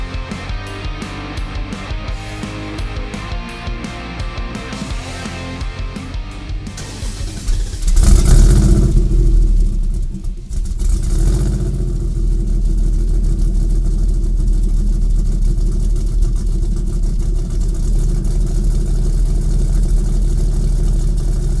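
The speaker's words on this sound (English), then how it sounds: "when it comes to firing one of these engines up because it needs to run" A Dodge Challenger Hellcat Redeye prototype engine fires up: a loud starter crank and catch, then a deep, rumbling V8 idle with brief revs, sustained and close.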